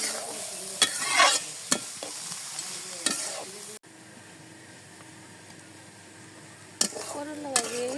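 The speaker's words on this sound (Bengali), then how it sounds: "করলা আর আলু দিয়ে দিলাম।" Bitter gourd and potato pieces fry and sizzle in a pan, with a utensil scraping and stirring in bursts, sharp clatters at intervals, and a quieter stretch of steady frying in between.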